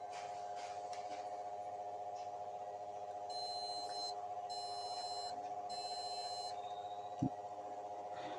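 An MSI H61M-P20 motherboard gives three short, evenly spaced electronic beeps on power-up over a steady hum from the spinning fan.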